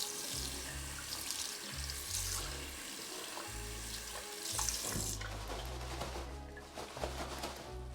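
Tap water runs steadily from a faucet over an item being tested for waterproofing, a close, continuous splashing wash with shifting low rumbles as the stream hits and slides off the surface.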